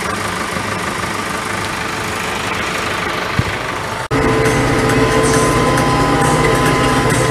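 Tractor engine running loudly and steadily on the way to plow a field, with a jolt partway through after which the drone deepens and grows heavier.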